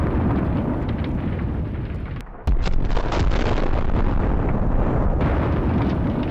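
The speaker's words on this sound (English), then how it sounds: "The flames reach the ammunition, and a strong explosion turns the equipment into ashes." Ammunition cooking off in a burning Russian armoured personnel carrier after an FPV drone strike, a loud, sustained roaring blast with a sharp burst midway, recorded from a distance.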